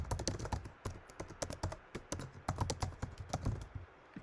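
Rapid, uneven keystrokes on a computer keyboard as an email address is entered, a close, steady run of light clicks that goes on with no talk over it.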